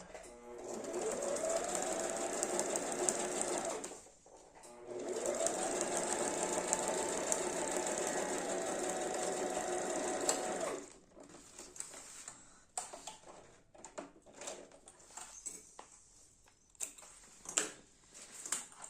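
A sewing machine straight-stitches a basic fabric toiletry bag, running in two long steady bursts with a short pause between, then trailing off into scattered clicks and handling noises.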